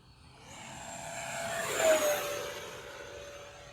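A Horizon Hobby F-15 Eagle 64mm EDF radio-control jet sweeps past at speed on about 70% throttle, its thin turbine whine swelling to a loud peak near the middle and then fading as it flies off.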